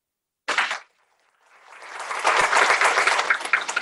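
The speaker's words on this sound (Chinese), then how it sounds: "赶快为自己鼓掌一下" After a short sharp burst of clapping and a moment of silence, a class audience breaks into sustained applause that swells and holds steady to the end.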